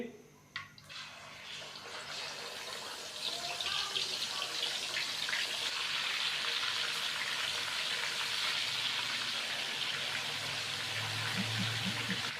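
Chicken pieces drop into hot oil in a pan for a roast chicken pulao, and a loud, steady sizzle swells at about three seconds and keeps crackling to the end.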